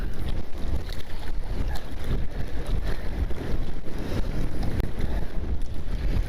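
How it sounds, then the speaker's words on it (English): Strong wind buffeting the microphone on open water during winter fishing, a continuous loud roaring rumble with gusty fluctuations and faint water sounds underneath. "Look at how hard that wind is blowing right now."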